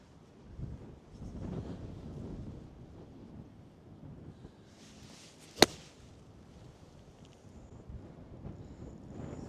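Wind gusting across an open golf course, a low rumbling buffet against the microphone rising and falling throughout, with one sharp crisp click-like impact near the middle.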